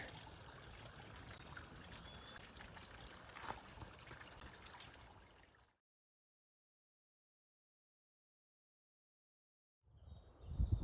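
A soft, steady trickle of water runs for several seconds while water is filtered on a snowy trail on San Jacinto Mountain, then cuts to silence before a brief burst of noise at the end.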